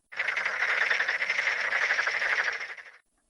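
Frogs in rice fields croak in a dense, rapid rattling chorus, steady and fairly loud for about three seconds before stopping abruptly, with no talk.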